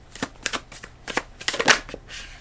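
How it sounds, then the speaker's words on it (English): Animal oracle cards are shuffled by hand in several quick riffling bursts, close and crisp, with a brief pause between shuffles and a slightly longer final flurry. "I'm gonna pull some animal cards for you"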